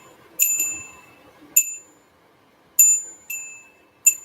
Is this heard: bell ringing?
yes